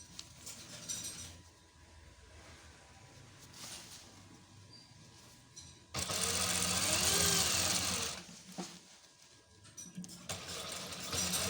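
Sewing machine stitching double inner shoulder seams on fabric, running in short bursts with a long loud continuous run in the middle, close and clear with no talking.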